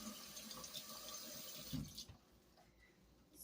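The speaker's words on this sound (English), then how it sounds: "I want to add a little bit of, just a little bit of water like so." Water from a tap running into a bowl as a small amount is added to French bread dough, a steady splashing pour for about two seconds that then stops, leaving quiet room tone.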